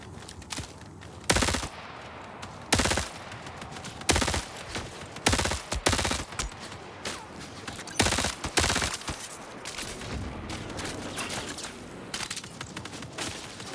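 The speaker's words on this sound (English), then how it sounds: "the shooting feedback feels great" Rapid bursts of automatic gunfire in the video game Marathon, loud repeated volleys with short pauses between them under a continuous dense wash of game sound.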